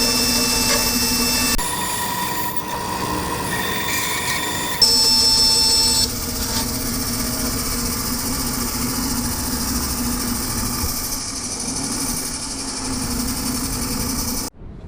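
A CNC router cuts a dust boot, making straight passes with a loud, continuous high-pitched whine and motor drone that shifts in pitch a few times, close and steady throughout before cutting off abruptly at the end.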